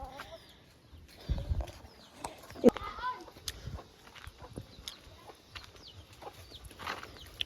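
Chickens cluck and a rooster calls now and then amid quiet farmyard ambience, with brief rustles and a person talking nearby.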